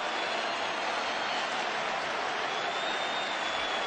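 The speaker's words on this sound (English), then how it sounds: "the crowd boo" Cricket crowd at a one-day match between New Zealand and another side, reacting at the end of the innings: a broad, steady wash of crowd noise, loud and unbroken from start to finish.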